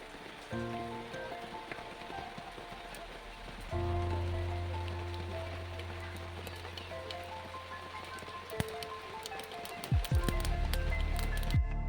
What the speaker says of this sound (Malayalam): കടു പൊട്ടിക്കഴിഞ്ഞാൽ